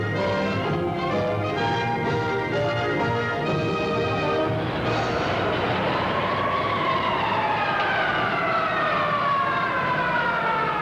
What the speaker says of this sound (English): The sound of sirens filled the streets of Pittsburgh this week in 1953 for a true-to-life test of the city's civil defense plan.